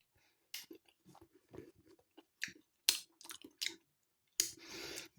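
Someone eats Sainsbury's baked beans and pork sausages, with close, quiet wet chewing, soft clicks and mouth noises coming in irregular bursts, no talking.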